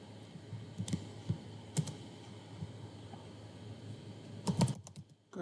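Soft, irregular clicks of a computer keyboard as ABAP code is typed, close and quiet, with short bursts of keystrokes and pauses between them.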